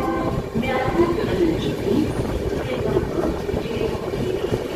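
A train rumbles and clatters steadily while pulling into Salar station, its wheels and carriages giving a continuous mid-level roll with faint squeals throughout.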